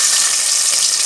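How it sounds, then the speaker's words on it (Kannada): Onions hitting hot oil in a pan with garlic and curry leaves, a loud, dense, hissing sizzle that holds steady through the short moment, close up with no talking. "ಈಗ ನೀರುಳ್ಳಿ ಹಾಕುವ."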